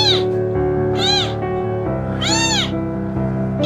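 An abandoned young kitten meows loudly and repeatedly, with four distinct high rising-and-falling cries spread evenly over a few seconds, close up and alone.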